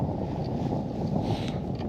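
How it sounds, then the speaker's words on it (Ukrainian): Steady wind buffeting the microphone while fishing outdoors, a continuous low rumbling roar with no pauses. "А вітерець навпаки щось піднявся"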